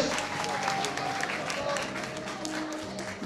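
Wedding guests applaud together, a fairly dense patter of clapping at moderate distance with a few voices faintly audible underneath.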